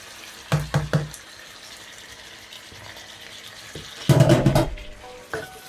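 Tomatoes dropped into a pan of meat frying in oil, two loud bursts of splashing sizzle against a steady low frying hiss, close by.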